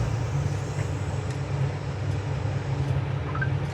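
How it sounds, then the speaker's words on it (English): A 1966 Ford Mustang engine running on the move, a steady low droning rumble with faint road noise, with no clear gear change breaking the even tone. "Shift it manually. That way you can hear all the gears shift."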